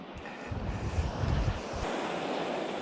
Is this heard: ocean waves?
yes